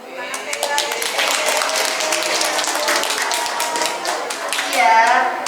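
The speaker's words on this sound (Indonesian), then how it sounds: "Oke, tepuk tangan sekali lagi." A room full of children and adults claps together at a talk on gadget dangers, a dense, steady round of applause lasting several seconds, with children's voices mixed in.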